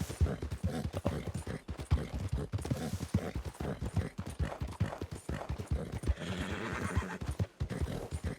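Horse hooves clip-clop in a steady rhythm while riding through Red Dead Redemption, with occasional whinnies and neighs rising over the continuous, close-up trotting.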